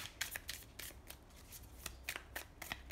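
Tarot cards are shuffled by hand at close range, giving soft repeated riffling flicks and slaps in an uneven rhythm against a quiet room.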